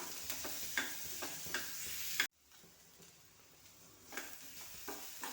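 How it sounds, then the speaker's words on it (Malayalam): Potatoes and onions frying in a pan, a soft sizzle under light spatula scrapes and taps, with a brief drop to near quiet midway before the stirring resumes. "പിന്നെ ഇതെല്ലാം കൂടെ നമ്മൾ ഇളക്കി കൊടുക്കുകയാണ്"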